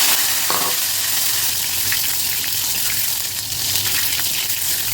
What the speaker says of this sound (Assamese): এতিয়া চয়াবিনখিনি অলপ ফ্ৰাই কৰি ল'ম মই